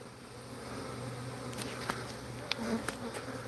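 Honeybees cluster on a hive box during the combining of two colonies, a constant near buzzing drone with a few sharp clicks or taps near the end and no speech.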